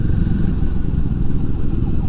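Royal Enfield Himalayan 450 motorcycle engine running close by with a loud low rumble, steady throughout.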